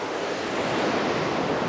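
A waterfall at Trollstigen, Norway, heard as a steady, loud, broad rush of falling water with wind noise, continuous and unbroken, with no voices.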